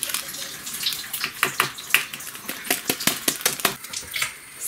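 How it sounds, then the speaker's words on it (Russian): Water poured out of a cooking pot into a sink in a village house kitchen, a splashing stream with irregular clattering knocks of the pot against the basin, close and fairly loud. "Слила уже воду."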